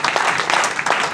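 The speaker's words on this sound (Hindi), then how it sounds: "जबरदस्त ताली होना चाहिए" Brief burst of audience applause at a business gathering, dense and loud with many hands clapping close by, pulsing unevenly through the short stretch.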